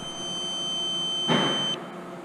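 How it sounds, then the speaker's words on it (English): An RC car radio transmitter runs its timer, giving a steady high electronic tone that stops abruptly, with a short burst of broadband noise partway through. "My radio does that. It turns on this timer every now and then."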